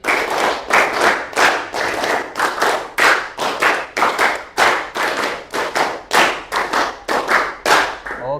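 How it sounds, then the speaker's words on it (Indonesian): A class of students claps hands together in rhythmic groups of loud, crisp strikes, many hands at once, repeating steadily with brief pauses between sets and no talking. "tepuk 5 kali."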